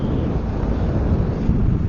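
Wind rushing over a motorcycle helmet with the visor closed while riding, a steady, muffled low roar that stays constant and close throughout.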